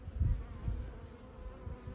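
Honeybees in an overwintered hive, a split with its own queen, give off a low, close buzzing hum with uneven swells.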